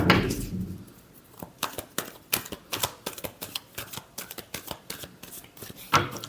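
A deck of tarot cards is shuffled by hand, with a run of rapid riffling snaps and flicks that come in quick bursts, close and crisp, and no talking.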